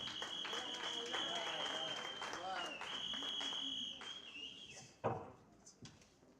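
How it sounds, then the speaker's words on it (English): A crowd at a SADTU teachers' union Mokopane branch merit awards ceremony breaks into applause, with dense, sustained clapping that tapers off after about five seconds, overlaid by a steady high electronic whine and some voices. "Let's give Comrade Siopa a round of applause."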